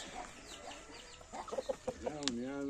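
Chickens clucking at close range on a farm: a run of short, separate clucks builds toward a longer drawn-out call, over a steady background hum with no one speaking.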